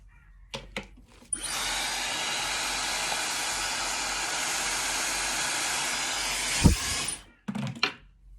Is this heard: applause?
no